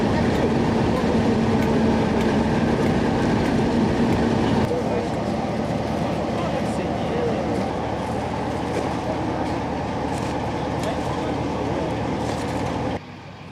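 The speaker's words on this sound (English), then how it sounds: "The Class 47 departs for London with the usual send-off for a final occasion." Class 47 diesel locomotive on a heritage railway in Wensleydale pulling away, with a continuous loud rumbling engine and rolling drone that holds steady throughout before cutting off near the end.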